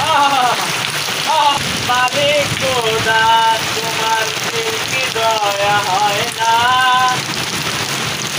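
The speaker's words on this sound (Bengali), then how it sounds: "এই বৃষ্টির শব্দেরও একটা বিশেষ গুণ আছে।" Torrential rain pours down steadily in a village, a dense, unbroken hiss on every surface, with a melodic voice running over it throughout.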